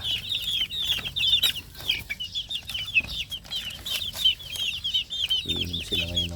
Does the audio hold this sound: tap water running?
no